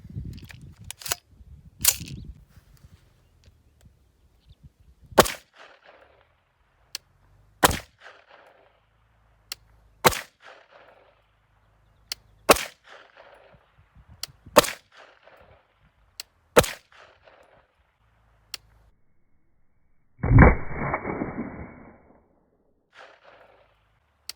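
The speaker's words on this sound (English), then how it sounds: "So when I shoot this here, you'll see exactly how that works." Gunshots from an AR-9 rifle build are heard as sharp, loud single cracks at irregular intervals, about eight in all, each followed by a brief decay, with a longer rushing burst near the end and no talking.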